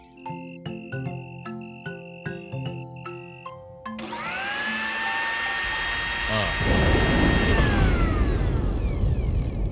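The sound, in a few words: thunder rumbling in a cartoon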